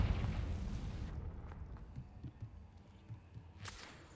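A Confringo spell goes off in a Harry Potter video game, a fiery blast that bursts loudly at the start and then decays into a crackling, rumbling tail, with a sharp whip-like crack near the end.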